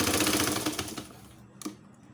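A sewing machine stitches a stuffed toy in a rapid, rhythmic run of close mechanical clatter that fades out, followed by a single sharp click.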